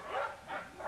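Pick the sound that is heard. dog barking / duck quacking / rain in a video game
dog barking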